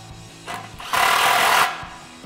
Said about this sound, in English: Grab your 16 socket and tighten that down.